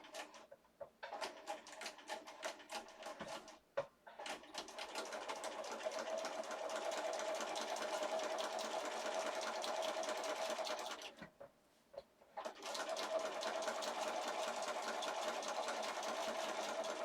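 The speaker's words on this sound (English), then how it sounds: "Then I'm going to go to my sewing machine." A sewing machine runs steadily with a fast mechanical whir, pausing briefly twice before starting up again; no talking.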